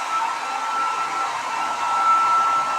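A hair dryer blows steadily on hair, a continuous airy whir with a high whine, close and fairly loud, running alone without talk throughout.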